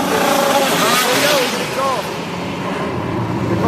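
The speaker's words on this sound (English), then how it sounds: "The cars are heading out now" A Chevy race car pulls out of pit row at the Indianapolis Motor Speedway, its engine droning loudly with rising and falling pitch amid track noise while people talk nearby.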